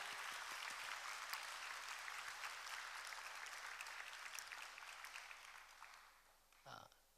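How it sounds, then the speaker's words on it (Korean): A church congregation applauds during an afternoon worship service, dense sustained clapping from many hands in a large room that gradually thins and fades out, with a voice briefly heard near the end. "이 모든 분들을 위해 우리 격려의 박수를 보내십시다"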